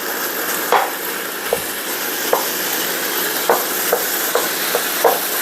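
Ground beef browning in a pan over high heat, a loud steady sizzle with occasional light spatula taps and scrapes, no talking.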